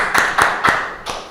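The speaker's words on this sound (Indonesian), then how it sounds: "Tepuk tangan buat Agung." Four sharp, separate claps ring out close by in a classroom for a student named Agung, evenly spaced and fading slightly by the last one.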